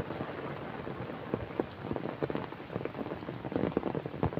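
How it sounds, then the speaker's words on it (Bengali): Heavy rain pours down steadily, a dense patter of drops drumming on surfaces throughout, fairly close and with no voices. "হায় হায় কি বৃষ্টি,"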